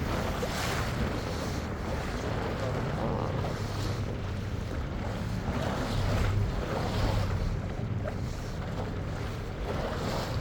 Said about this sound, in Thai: คลื่นก็จะสูงนิดนึง